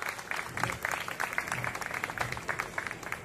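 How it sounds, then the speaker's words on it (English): An audience at an educational conclave offers faint, sparse applause, with individual claps audible as uneven taps at a distance and a murmur of voices underneath. "Could you all please give a very big applause for ma'am?"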